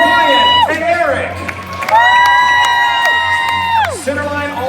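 An arena crowd at a live stunt show cheers and whoops for the red team, loud and sustained in bursts, with shouting voices rising over the noise.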